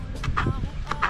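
Backyard chickens clucking while being fed chopped vegetable scraps, soft close clucks scattered across a brief moment amid background voices.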